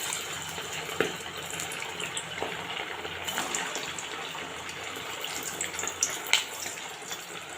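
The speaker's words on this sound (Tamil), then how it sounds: "சின்ன சின்ன உருண்டையாக உருட்டி நம்ம வடை மாதிரி தட்டி எண்ணெயில் போட்டு பொரிச்சு எடுத்துடலாம்" Flattened balls of minced meat vada mixture fry in hot oil, giving a dense, steady sizzling hiss dotted with small pops and crackles, close by and fairly loud throughout.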